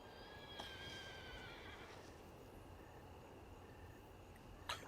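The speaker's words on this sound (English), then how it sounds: "Oh, a horse." Horse neighing and whinnying in a Western-themed TV show scene, a long, loud, harmonic whinny in the first two seconds over steady background noise, ending with a brief sharp sound.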